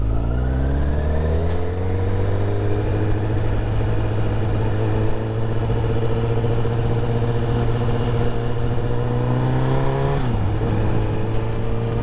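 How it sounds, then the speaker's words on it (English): A Honda CBR1000RR Fireblade engine pulls smoothly under light throttle on a ride, a loud, steady droning note that slowly rises in pitch, then drops briefly near the end before climbing again, with wind noise and no talk. "A little bit, like a very little bit of throttle, and I'm moving"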